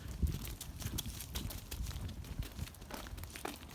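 Sheep and a ram walking along, their hooves giving a steady, soft scuffing patter of irregular steps, quiet and close, with faint rustle around them.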